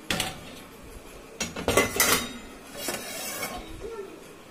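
Dishes, pots and utensils freshly washed in a Bosch SMS66GW01 dishwasher clatter and clink as they are handled nearby, in bursts with quieter gaps between them.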